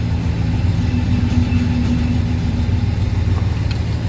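The engine of a 1972 Pontiac Luxury Le Mans idles with a steady, deep low rumble, loud and close, holding an even pulse with no revving and no voices.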